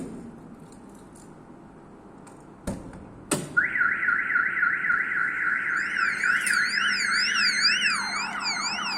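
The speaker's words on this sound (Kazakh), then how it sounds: "И бізде аварийка ойнап жатыр. И сирена." A StarLine B9 car alarm siren: two sharp clicks come first, then a loud, close warbling siren cycles up and down continuously, with a second higher sweeping tone layered on top near the end.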